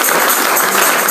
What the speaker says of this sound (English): I appreciate the claps